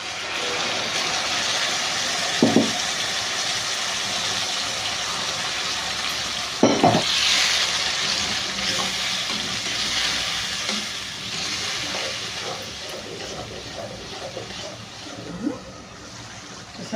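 Tomato gravy with kasuri methi sizzles and fries in hot oil, a continuous close crackle broken by a few louder stirring scrapes.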